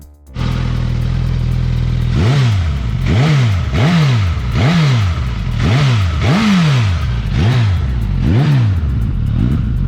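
A Suzuki GSX-S 1000 GX motorcycle engine idles briefly, then is revved about eight times in a row, each blip rising and falling in pitch, loud and close with no talking.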